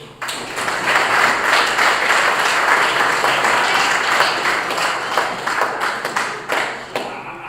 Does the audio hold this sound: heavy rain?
no